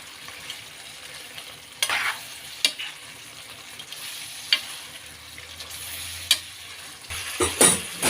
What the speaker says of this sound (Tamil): சிக்கனை போட்டு நல்லா வதக்கணும்.